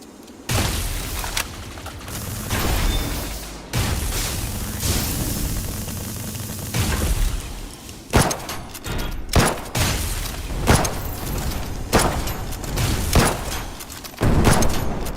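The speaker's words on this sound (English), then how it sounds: "I'm gonna let him blow up his friend." Rocket explosions in the video game Dolls Nest, a rapid series of loud booming blasts and crackling bursts, several overlapping in quick succession throughout.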